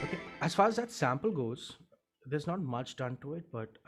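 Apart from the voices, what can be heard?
No everyday noises stand out.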